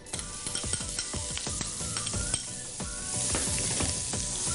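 Onions sizzle steadily in a pan of lamb fat, a dense close frying hiss with occasional crackles and stirring scrapes, no talking.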